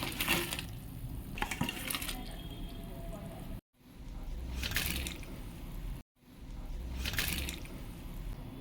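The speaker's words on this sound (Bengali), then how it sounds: "গ্রেভি ফুটছে, এই আলুগুলো আমি ভেজে নিয়েছিলাম" Thick potato curry gravy bubbles in a pot as fried potatoes are dropped in, with wet squishy stirring and soft splashes, broken twice by brief gaps of silence.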